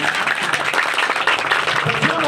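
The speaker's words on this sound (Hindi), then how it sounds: "एक बार आप अपने लिए जोरदार तालियां बजाइए" Audience applause for themselves at a Hindi poetry recitation, a dense steady wash of many hands clapping throughout, fairly loud and close, with a few voices faintly mixed in.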